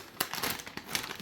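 A plastic bag is handled and crinkled while a 3D printer is unboxed, giving a brief close rustle with a few sharper crackles.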